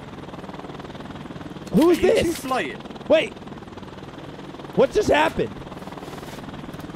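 Jet helicopter in a first-person shooter video game, a steady droning engine rumble running throughout beneath excited voices of players talking.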